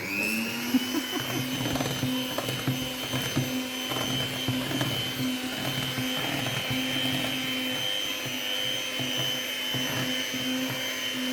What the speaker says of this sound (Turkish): Güzelce çırpıyoruz. Şimdi Çırpıyoruz.